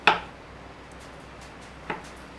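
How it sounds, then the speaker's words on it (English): Two sharp knife strokes on a board, one at the start and another near the end, with quiet room tone between. "I'm going to use the back of my chopping board and just slice it."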